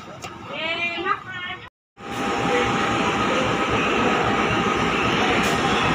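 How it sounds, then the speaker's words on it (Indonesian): CC201 diesel locomotive idling at Tanah Abang, Jakarta, during uncoupling from a passenger train; a steady loud engine rumble fills the scene after a brief voice and a short gap. "ini proses pelepasan lokomotif CC201-8903 di Penduk PHB, Tanah Abang, dari rangkaian kereta api Joko Kendil"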